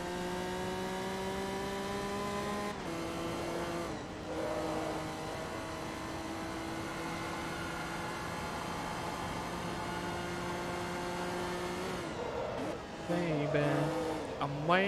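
A race car in the Forza Motorsport 2 video game holds a steady high engine whine through upshifts, then squeals its tires as it loses grip near the end.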